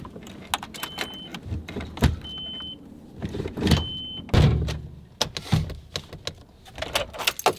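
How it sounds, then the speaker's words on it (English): A key stuck in the ignition of a Nissan D21 pickup is worked free with repeated close metallic jangles and clicks, interspersed with short mechanical whirs and knocks. "My key is fucking stuck in the ignition again."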